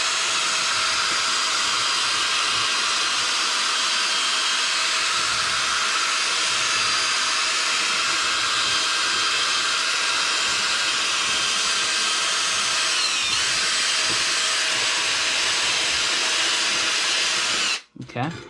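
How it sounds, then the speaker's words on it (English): An electric drill spins a wire brush across a cast iron skillet, making a loud, steady grinding whir that runs continuously and cuts off abruptly at the very end. "This little brush and the drill is really doing most of the work here."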